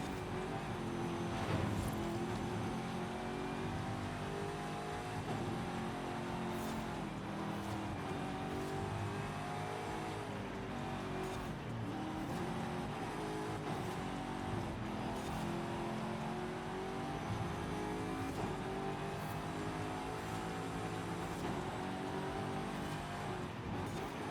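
A Ford Mustang's engine drones steadily and loudly from inside or near the car during a performance drive, with rev rises, some shifting and tire noise running continuously throughout.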